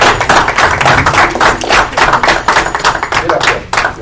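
An audience at a school board meeting applauds, a burst of uneven claps and taps ringing through the room, with voices talking over the clapping.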